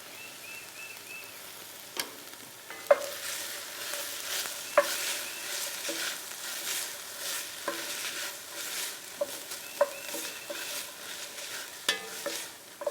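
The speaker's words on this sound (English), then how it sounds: "your celery, your garlic, we're going to let that cook down for just a minute" Celery and garlic cooking down in a pan for gumbo, a soft continuous sizzle broken by occasional sharp clicks and scrapes of stirring, close and quiet with no talking.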